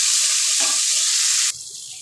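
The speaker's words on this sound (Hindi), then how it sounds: "अब इसमें हम एक table spoon ginger garlic paste डाल देंगे इसे हल्का सा हम इसकी कच्ची स्मेल जाने तक हम सोते कर लेंगे" A tablespoon of ginger garlic paste sautés in hot oil for shahi matar paneer, giving a loud, steady sizzle that drops to a softer hiss about halfway through, with no talking.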